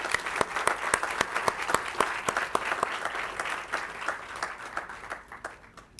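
Crowd applause for students at a university convocation in Shirpur, a full round of clapping with crisp individual hand strikes near the front, thinning out and softening toward the end.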